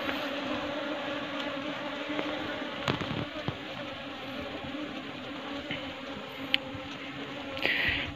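A dense swarm of bees hums continuously around their hive, a close, droning buzz with a few sharp clicks and taps scattered through it.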